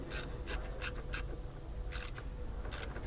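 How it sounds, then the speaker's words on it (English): Socket wrench tightening a 10mm battery cable nut on an Acura TL, heard as a series of quiet, crisp ratcheting clicks in short irregular bursts over a low background hum. "tighten the size 10 nut on here using your size 10mm socket"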